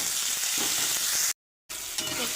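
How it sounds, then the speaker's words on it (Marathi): Onion and tomato sautéing in oil for a potato curry give a steady, close sizzle and crackle that cuts out completely for a moment before resuming. "कांदा टोमॅटो छान असं परतून झाला"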